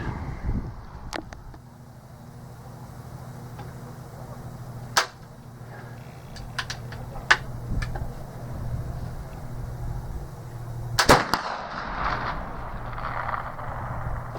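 A Euroarms Kentucky flintlock rifle fires outdoors in wind: a sharp crack around the middle of the clip, then a louder, broader discharge later on, with scattered clicks and a steady hum of wind between them.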